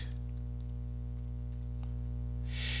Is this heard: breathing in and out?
no